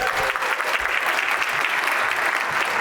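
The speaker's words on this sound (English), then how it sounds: "let's give another round of applause for our brave brave volunteers" An audience applauds volunteers at a faith conference, dense continuous clapping from many hands at a steady, even level throughout.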